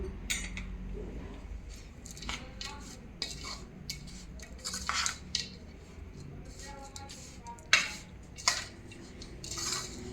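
A spoon stirs dry ginger powder, ganthoda powder and gum into white sesame kachariyu, giving repeated scraping clinks against a steel bowl and a few sharp knocks close up, with no talking.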